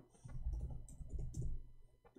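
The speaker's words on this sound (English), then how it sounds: "Hold on, I'm typing in Arabic." Keys clatter on a computer keyboard as someone types in Arabic, a quick irregular run of soft clicks for about two seconds, close and quiet, with no talking.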